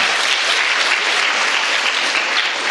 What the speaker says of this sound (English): Give them a good round of applause, please.